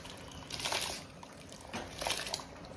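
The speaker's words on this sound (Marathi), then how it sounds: "आता हे टाकते ह्या उकळी आलेल्या पाण्यात" Soaked rice tipped into a pot of boiling water, two soft pouring splashes about a second apart, faint and close, with no talking.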